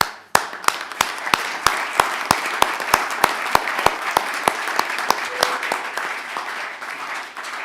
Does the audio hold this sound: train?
no